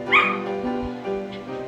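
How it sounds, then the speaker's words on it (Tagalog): A hungry dog barks and whimpers close by in a backyard garden, a short burst of high yips and a bark that trails into whining. "Sorry guys, yung aso ko, maingay, gutom na."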